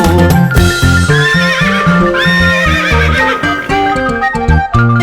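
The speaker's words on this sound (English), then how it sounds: "And on his farm he had some horses" Horse neighing and whinnying in a bright, loud children's nursery-rhyme song, with clip-clop hoofbeats and backing music throughout.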